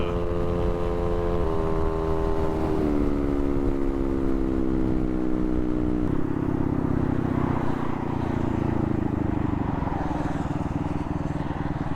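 Big bore Honda Navi motorcycle engine revving at high speed on the road, a loud continuous buzzing drone whose pitch steps through gear changes, steady and close with wind rush throughout.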